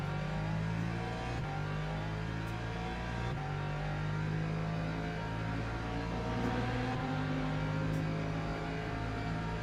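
A hypercar engine in a video game holds a high, strained drone that steps up through gear changes several times, steady and moderately loud, with no talking.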